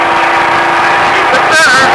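A Baja truck engine accelerating hard at speed in Las Vegas, a loud continuous roar with rising pitch near the end, under a driving instructor's steady coaching voice.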